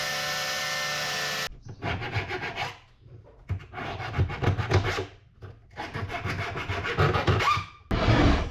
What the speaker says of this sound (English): First thing is the pleasant job of cutting these piano hinges.